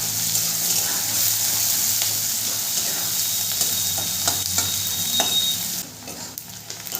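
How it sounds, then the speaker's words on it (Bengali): Chopped onions fry in hot oil over spices while being stirred, making a loud, steady sizzle with scraping strokes that grows quieter and patchier near the end. "পেঁয়াজটা লাল করে ভেজে নেব।"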